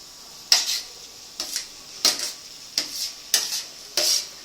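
Ivy gourds go into a hot pan on a home stove. Six evenly spaced bursts of scraping and hissing sizzle rise and fade, close and fairly soft, with no talking over them.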